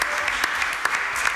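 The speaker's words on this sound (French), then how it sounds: "je vous permets d'applaudir parce que c'est un bénévole" Brief burst of steady hand clapping from the audience at a municipal council meeting, honoring a volunteer, even and moderately loud with scattered sharper claps.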